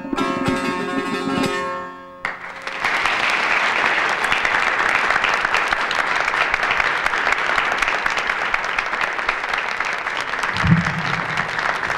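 An audience applauds a music group's performance, a dense, steady wash of clapping from many hands that starts abruptly after a held musical chord fades and continues loudly to the end.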